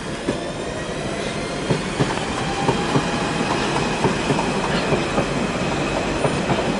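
A train passes at Ealing Broadway station on the Great Western Main Line, its wheels giving a steady rhythmic clickety-clack over the rails at moderate distance with continuous rumble and no talking.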